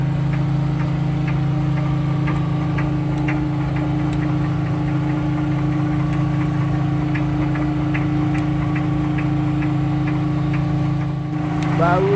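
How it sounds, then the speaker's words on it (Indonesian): The engine of the fishing boat TRF 771 runs steadily at night after a storm, a loud, constant low droning hum with faint regular ticking throughout. "Kita bersiaran bersama motor TRF 771 motor Pak Wang"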